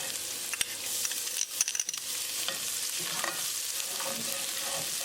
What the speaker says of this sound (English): We're going to use the same oil, add garlic and ginger.